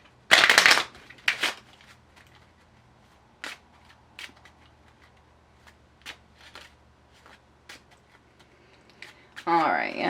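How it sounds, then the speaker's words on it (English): Tarot cards shuffled in bursts, loud riffling at the start and again near the end, with scattered light card taps and clicks between. "Let's go ahead and shuffle them."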